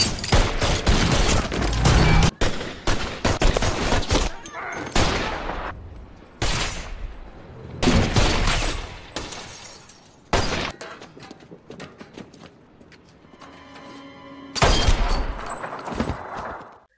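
Bursts of gunfire from a film scene about a gunman in a crime story, loud volleys and shattering impacts arriving in several separate clusters with brief quieter gaps between them, heard alone without any voices.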